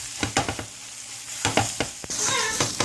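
Egg podimas, Tamil-style scrambled egg, sizzles in a hot pan while being stirred, with a few quick scraping strokes over a steady frying hiss, close up and with no talk.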